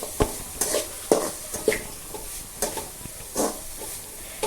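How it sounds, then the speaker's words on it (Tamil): Onion, green chili and curry leaves sauté for kothu dosa, an irregular series of close spatula scrapes and taps against the pan over a light sizzle, without speech. "ஒரு கொத்து கருவேப்பிலை சேர்த்து இதை நல்லா வதக்கிக்கிடலாம்."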